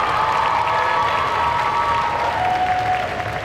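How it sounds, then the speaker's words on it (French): A convention audience applauds a cosplay group on stage, a dense, loud wash of clapping with some cheering that holds steady throughout. "On peut les applaudir encore une fois bien fort."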